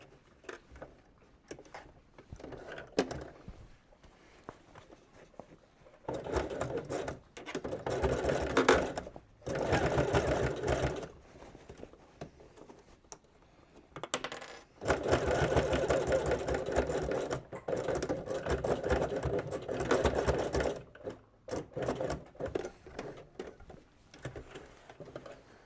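A sewing machine stitches a denim workwear jacket edge to edge with the needle centered, running in several bursts of steady mechanical whirring separated by short pauses.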